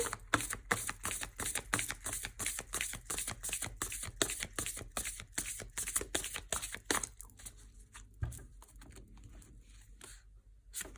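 Oracle cards being shuffled by hand, a dense run of quick crisp riffling snaps and flicks close up for several seconds, thinning to a few scattered card taps and slides.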